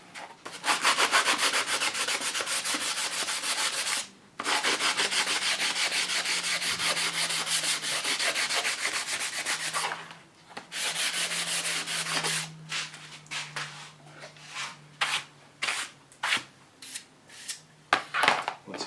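Wood being hand-sanded with fairly coarse sandpaper, near 80 grit, for a joiner box: a steady, loud rasping scrub that runs long, breaks briefly, and then turns into short, choppy back-and-forth strokes.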